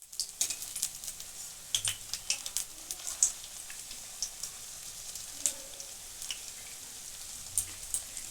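Stuffed pointed gourd (parwal) fries gently in a pan over lowered heat, a continuous light sizzle with frequent crisp crackles and pops, fairly close.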